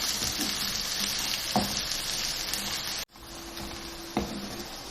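Garlic, ginger, onion and garam masala frying in oil for keema make a soft, steady sizzle in a home kitchen, with a couple of faint clinks from stirring and a brief dropout partway through.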